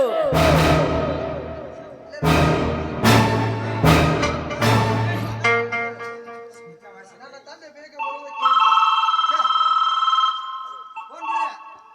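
A telephone rings in a stage comedy scene: loud bursts of electronic ringing alternate with gaps, then settle into a sustained warbling tone near the end.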